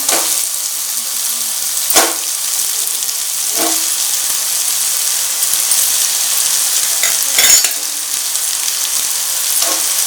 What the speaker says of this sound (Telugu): బెండకాయ ముక్కలు మరీ అంత మెత్తగా ఏమీ వేగక్కర్లేదు జస్ట్ లైట్గా వేగితే సరిపోతాయి